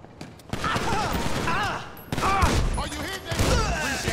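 Gunfire in Grand Theft Auto V, rapid bursts of shots cracking in two clusters amid a busy game soundscape, with a voice speaking over parts of it.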